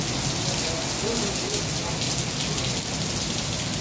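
Heavy rain falls in Islamabad, a dense, steady hiss of downpour on surfaces that fills the whole stretch without letup.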